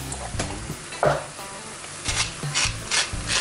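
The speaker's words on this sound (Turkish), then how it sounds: "şimdi bütün sebzeleri iyice kavrulana kadar güzelce karıştıracağım" Vegetables are stirred in a pot with a utensil, giving a series of irregular scraping and rubbing strokes, close and fairly quiet, with no talking.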